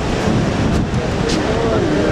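Gusty sea wind during a storm at Benidorm, Spain, buffets the microphone in a loud, continuous rumble lasting about two seconds, with faint hints of water behind it.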